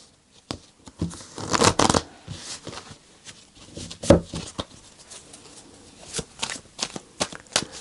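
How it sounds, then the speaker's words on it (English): Tarot cards are shuffled and pulled from a deck, quiet papery riffles and flicks in short irregular bursts, with louder shuffles near the start and middle. "I'm going to pull these cards"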